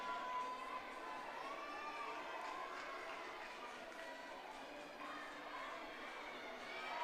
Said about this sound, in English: The crowd just so enthused.